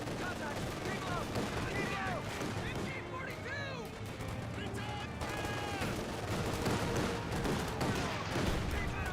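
Gunfire in the strategy game Company of Heroes 2, dense rattling bursts of rifle and machine-gun shots with booming impacts, continuous and loud, with a commentator talking over the battle.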